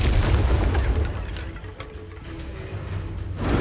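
A Confringo spell in the video game Hogwarts Legacy detonates with a deep, rumbling boom that decays into a dull low roar before a second swell at the end, loud and close with no voices.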